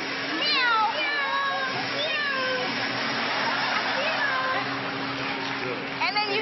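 People in a Starbucks imitate cat meows, with repeated rising and falling vocal meows over a steady hum of room noise and background chatter.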